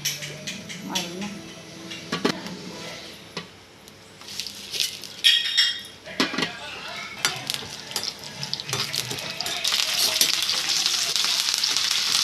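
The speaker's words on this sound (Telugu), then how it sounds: "ఆయిల్ హీట్ అయ్యాక పోపు దినుసులు వేసేసుకుందాము." Tempering spices and lentils (chana dal, urad dal, cumin, mustard seeds and dried red chillies) fry in hot oil for a pickle, giving a close crackling sizzle with stirring clatter while a voice talks over it.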